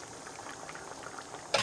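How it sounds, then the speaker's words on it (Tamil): Vegetable kulambu boils in an open pot, giving a steady low bubbling and popping, close and moderately loud, with a brief splashy clatter at the end. "இப்போ குழம்பு நல்லா ஒரு 10 நிமிஷமாக கொதிச்சிட்டு இருக்குதுங்க."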